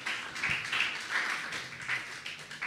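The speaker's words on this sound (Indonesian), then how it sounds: "Tepuk tangan untuk Desi" A small church youth-service crowd gives brief, modest applause, soft scattered clapping in a few uneven bursts, fairly faint and distant.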